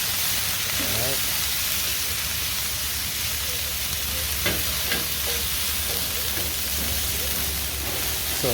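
Sausage and peppers in olive oil sizzle steadily on a flat-top section of a grill, loud and close, with occasional scraping and turning sounds and a voice talking now and then over the frying.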